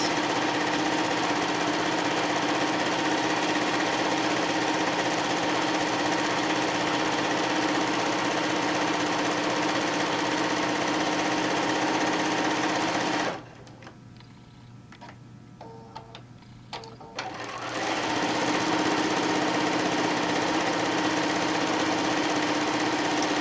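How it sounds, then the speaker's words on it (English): A sewing machine runs steadily while top stitching a tote bag, a continuous mechanical hum with a faint ticking rhythm, pausing briefly near the middle before resuming at the same steady level. "I like to top stitch on both sides"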